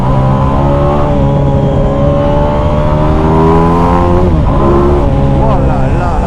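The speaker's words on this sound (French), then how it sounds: "T'as juste envie de rouler sur le couple et de temps en temps, te faire des accélérations comme ça." A Ducati XDiavel Black Star cruiser motorcycle accelerates hard, its engine note rising in pitch with a gear shift partway through, loud and close throughout.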